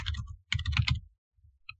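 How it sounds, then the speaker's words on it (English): Computer keyboard being typed on in short clustered bursts of clicking keystrokes, close and fairly crisp, with brief pauses between runs. "And you're probably going to hear me typing."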